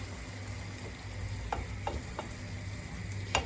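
A small splash of water goes into a pan of sausage menemen with tomatoes, setting off a steady close sizzle with a few sharp spoon scrapes and taps over it. No voices.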